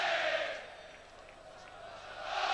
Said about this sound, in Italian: Ci fanno sentire i tifosi di casa.